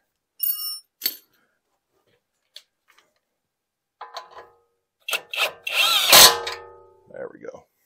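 A power tool drives a Torx bolt on the control arm of a 2015 Jeep KL Cherokee, with short scattered bursts first and then a loud, harsh whirring spell near the end.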